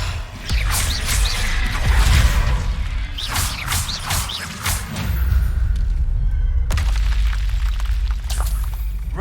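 Confringo blasting spells explode in Hogwarts Legacy combat: heavy, loud booms and thuds come in several bursts, with crackling debris and rumbling between the blasts.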